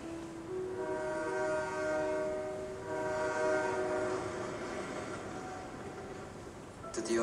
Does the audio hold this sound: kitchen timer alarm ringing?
no